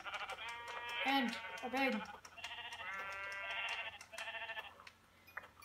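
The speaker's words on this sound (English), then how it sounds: "Some sheep. Ooh, I'm gonna get these sheep so I can get some food." Sheep in Minecraft bleat several times in a row, loud and close, the wavering calls stacked over a snowy game scene while a person talks over them.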